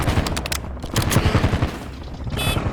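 Rapid bursts of automatic gunfire crackle close and loud in a battle royale shooter, with clustered volleys separated by brief pauses.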